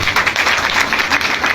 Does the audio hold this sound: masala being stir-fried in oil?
no